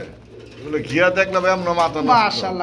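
Pigeons coo at a pigeon sale, with repeated rolling coos close by over about three seconds, mixed with a voice.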